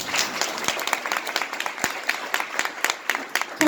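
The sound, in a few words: audience applause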